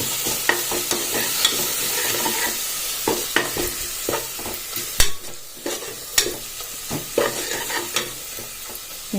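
Garam masala is stirred into a fish curry in a pan, with a sizzle underneath and a rhythmic run of close scraping and clinking spoon strokes.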